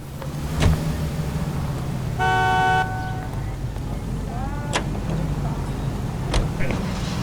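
A car driving in L.A. Noire, with a steady engine rumble throughout, a sustained horn blast partway through, and a few sharp clicks and knocks over the road noise.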